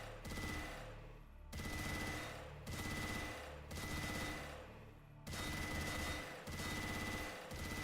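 A minigun in the S.T.A.L.K.E.R. DSH mod fires in four long, rapid sustained bursts separated by brief pauses, each a dense buzzing roar of gunfire, loud and close with no talking.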